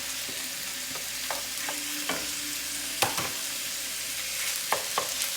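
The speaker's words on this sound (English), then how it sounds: "I'm going to go ahead and add to my onions some defrosted ground meat. And we're going to go ahead and brown this" Defrosted ground meat browns with onions in a pan for tacos, a steady close sizzle and crackle broken by scrapes and taps of a utensil stirring, with no talking.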